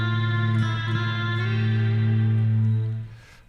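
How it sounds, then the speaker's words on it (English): A held guitar chord through the shimmer reverb of a Folktek Alter X multi-effects pedal swells with a shimmering, airy tail, bright upper overtones hovering above the steady low notes until it fades. "And the shimmering reverb."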